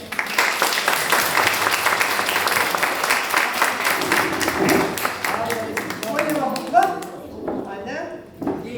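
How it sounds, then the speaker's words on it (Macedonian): Children and adults at a school event in Bitola clap together in dense, loud applause that thins into scattered claps and taps toward the end, with voices mixed in. "Еден аплауз за сите деца."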